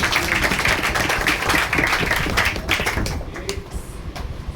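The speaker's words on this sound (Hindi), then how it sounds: "जोरदार ताली दो भाई" An audience at a coaching centre claps loudly in a dense burst of applause for about three seconds, then it thins out and fades as scattered claps and a few voices remain.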